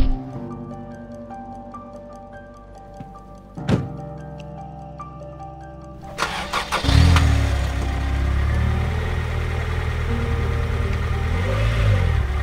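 A car engine turns over and settles into a steady, close, mid-pitched idle and drive rumble. Before it starts, a light ticking rhythm and some tonal background sound play, with a single sharp knock partway through.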